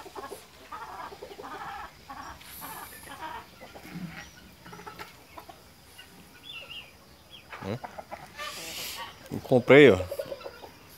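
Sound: rooster clucking

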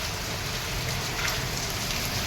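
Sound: heavy rain falling in Mumbai

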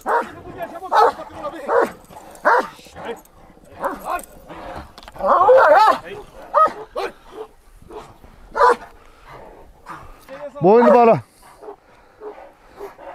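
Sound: Kangal shepherd dogs barking

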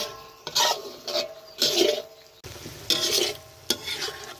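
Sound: stir-frying curry paste in iron pan

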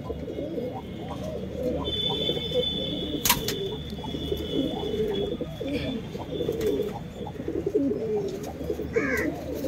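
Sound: pigeons cooing

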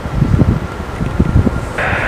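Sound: wind during a Ryanair takeoff

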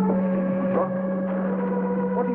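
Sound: motor running

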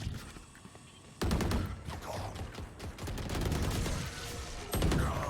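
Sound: gunfire in a shooting video game

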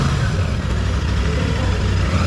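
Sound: Royal Enfield Shotgun 650 motorcycle exhaust idling

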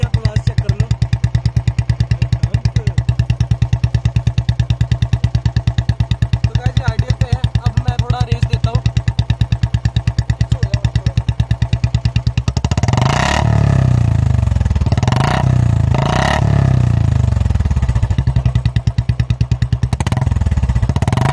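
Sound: Royal Enfield Bullet Classic 350 BS6 with short bottle exhaust starting and revving

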